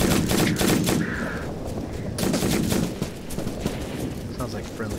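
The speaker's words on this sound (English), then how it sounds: "Sounds like friendly fire" Gunfire in a large simulated battle video game: dense rattling volleys of shots layered over each other, loud and continuous, with a sustained roar of combat beneath and voices mixed in.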